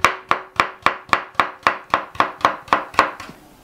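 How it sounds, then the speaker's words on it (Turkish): A knife chops watermelon rind into thin slices: eleven crisp, evenly spaced strokes close by, each a sharp knock with a brief ring, with no voices. "Ve gelişi güzel ince ince doğruyoruz."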